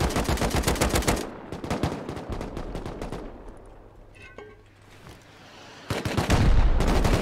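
Rapid bursts of automatic gunfire in the survival game Rust, loud and dense at the start, thinning to scattered shots mid-clip, then a heavy burst returning at the end.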